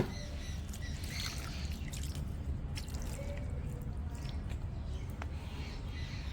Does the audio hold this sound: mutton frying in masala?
no